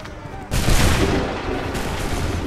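A loud musket volley fired by a line of soldiers in Assassin's Creed 3 erupts suddenly and roars on, sustained and dense, with a second burst following as it fades.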